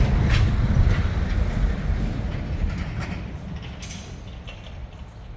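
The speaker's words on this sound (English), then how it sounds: "I'm going to check the bearings and all the pulleys and stuff" Sawmill pulleys and bearings turned by hand on a woodland sawmill, giving a continuous low rumble with scattered faint creaks and metallic clicks, close and steady, fading slightly toward the end, with no talk.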